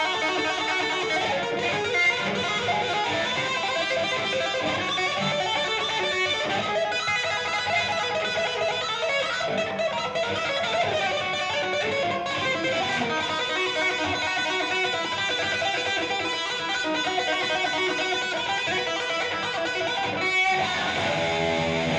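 An electric guitar piece played on electric guitar, a dense, loud, continuous stream of distorted notes with fast runs and sustained tones from start to finish, with no talking.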